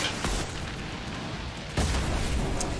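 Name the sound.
explosion in video game Fortnite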